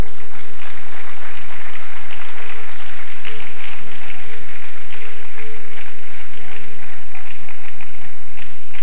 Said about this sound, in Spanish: Vamos a aplaudir la palabra.